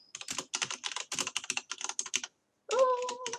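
Rapid typing on a computer keyboard, close and clear, with quick bursts of key clicks that stop briefly before a short tonal sound at the end.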